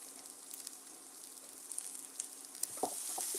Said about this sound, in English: So we're gonna let these kind of saute,